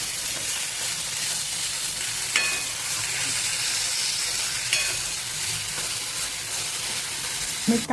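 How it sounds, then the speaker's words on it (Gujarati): Green onion and green garlic tossed into hot oil with cumin, giving a dense continuous frying sizzle with a few scraping stir clicks, close and steady, no voices. "આપણે તરત જ આપણે એડ કરી દઈશું લીલું ડુંગળી, બરાબર, અને લીલું લસણ, અને આપણે સારી રીતે મિક્સ કરીશું."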